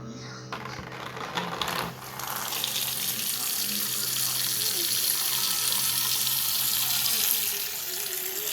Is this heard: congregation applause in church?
no